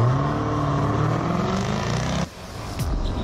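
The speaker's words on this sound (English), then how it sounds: "that noise you're hearing there is the roar of the F-Pace" A Jaguar F-Pace engine roars on a test drive in South Africa, a loud steady growl that drops off abruptly, then swells again as another revving pass builds.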